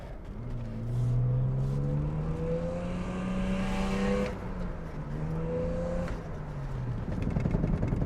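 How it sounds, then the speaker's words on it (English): A BMW E39 sedan with high mileage and in worn condition brakes while driven fast, its engine tone sweeping down in pitch with a whirring drone, then rising and falling again, loud and close from inside the car. "This is what it does when you brake."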